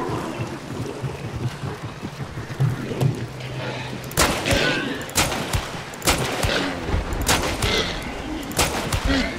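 Gunfire in the video game Hunt: Showdown, several loud sharp shots spaced a second or so apart over a rumbling, windy game ambience, with faint player voices now and then.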